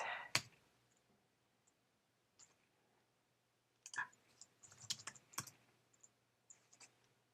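Scattered keystrokes on a computer keyboard, quiet clicks in short bursts separated by pauses, close and faint.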